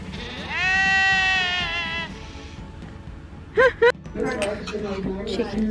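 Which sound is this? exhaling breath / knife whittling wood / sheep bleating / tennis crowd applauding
sheep bleating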